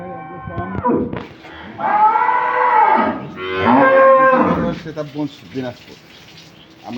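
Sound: cows mooing

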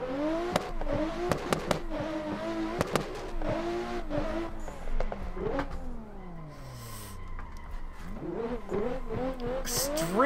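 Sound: rally car engine revving at redline, snow rally video game

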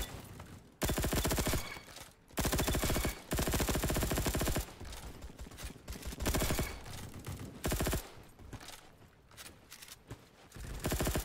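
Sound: gunfire in the video game Bad Business

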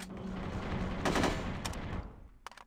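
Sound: gunshots at a safe in the video game No One Lives Forever 2

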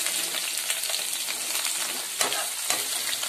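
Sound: onions frying with cardamom, cinnamon and cloves

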